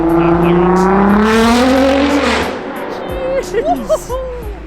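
A Nissan GT-R engine roars loudly as it accelerates, pitch climbing steadily, then the revs drop and crackle with a few sharp pops, heard close by.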